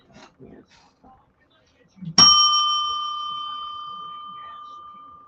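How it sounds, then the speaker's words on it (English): A single loud bell strike rings out sharply in a morning show studio, its bright tone sustaining and slowly fading over several seconds after a few soft background noises. "That was the loudest bell."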